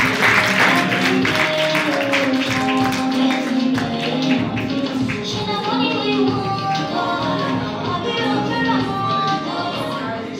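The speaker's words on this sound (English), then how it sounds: "A round of applause for Prof." Guests at a university awards dinner and inauguration night applaud. Sustained clapping runs beneath prominent stage music and some voices for around ten seconds.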